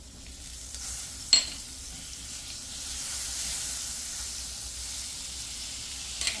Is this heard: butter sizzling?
yes